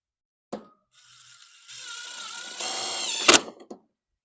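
Power drill driving screws to fasten a metal sheet onto a hoop-style chicken coop, a steady whirring burst that rises in pitch, then a sharp clack and a short rattle near the end, close and fairly loud.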